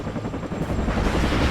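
In the video game WARNO, a helicopter flies low through trees, its dense rotor thrum and engine rumble steady and fairly loud over a brief stretch, without talking.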